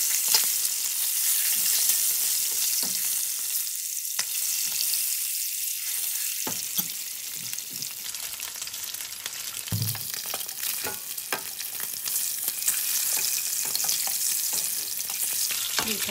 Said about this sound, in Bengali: হালকা একটু ভাজা হতে থাক